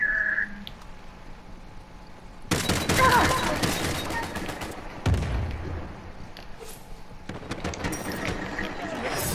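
Gunfire in a multiplayer shooter video game: dense, rapid volleys and bursts of shots begin a few seconds in and keep crackling, close and loud, while players talk over the action.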